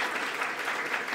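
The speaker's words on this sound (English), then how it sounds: "How about one more round of applause?" An audience claps after a talk on the solar eclipse, giving a dense, steady round of applause that fills the room.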